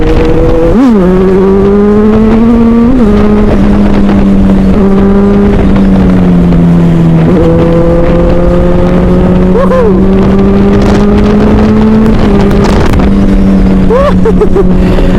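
A big motorcycle cruising a hilly highway from Lampung to Depok, its engine droning steadily and loudly with periodic gear shifts and rev changes, heavy wind buffeting the microphone throughout.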